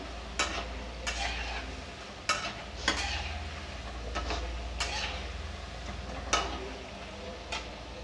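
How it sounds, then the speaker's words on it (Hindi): Masoor dal pakoras frying in hot oil over a high flame give a steady close sizzle, broken by about ten sharp ticks and clinks from a spoon or utensil against the pan at irregular intervals. "हमने फ्लेम को हाई ही रखा है हाई पर ही हम फ्राई करेंगे"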